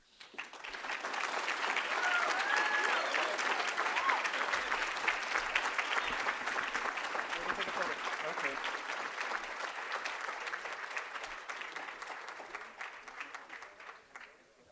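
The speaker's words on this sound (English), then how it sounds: "Can we just keep the applause going" A crowd at a ceremony applauds warmly, with the clapping swelling quickly to a full, sustained roar that holds steady before slowly tapering off, and a few voices mixed in.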